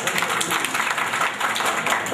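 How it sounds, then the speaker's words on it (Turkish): A room of schoolchildren on a village visit in Kulp claps together, a dense, steady wash of hand claps that stays loud and continuous from start to finish. "Alkışlayın bakalım."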